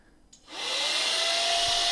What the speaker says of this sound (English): So the vacuum is on.